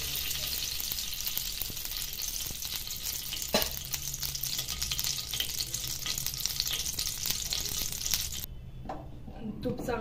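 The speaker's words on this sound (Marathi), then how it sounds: "एक छोटी वाटी तूप घालून घ्यायचे कढईत।" Ghee heats in a kadhai with a faint continuous sizzle and occasional clinks of a utensil against the pan, quiet and close, before the sizzle cuts off near the end.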